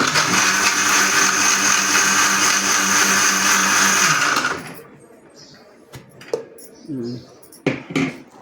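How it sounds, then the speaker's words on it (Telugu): A kitchen blender grinds almonds into a mixed fruit shake, a loud steady whirring roar for about four seconds before it stops, followed by quiet handling clatter and a few brief knocks. "బాదాం వేసి ఒకసారి తిప్పేసాక పలుకులు"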